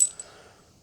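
Steel anchor bolts drop into the drilled holes of a Hiplok motorcycle ground anchor, making a sharp metallic clink at the start and another brief rattle near the end, close by with quiet between.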